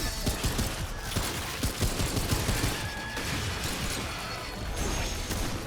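Gunfire in Remnant 2 pops in quick, loud shots over a busy, noisy game soundscape, steady for several seconds with no talking.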